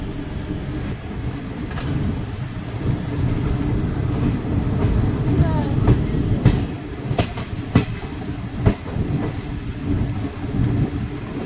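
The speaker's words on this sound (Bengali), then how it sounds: "ফাইনালি খালদিপুর স্টেশন থেকে ট্রেন ছেড়ে বেরিয়ে যাচ্ছে।" Malda-Howrah Intercity Express pulling out of small Khaldipur station, a steady loud rumble of rolling coaches with rhythmic clickety-clack of wheels over rail joints and a few sharp clanks, close by throughout.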